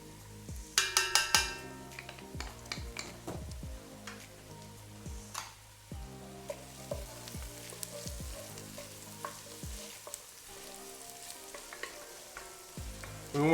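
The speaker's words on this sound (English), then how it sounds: "I'm going to add in 3 cloves of garlic," Minced garlic and translucent onions sizzle gently in a pot on low heat for tomato soup, a soft continuous crackle broken by clicks and scraping stirs, with no talking.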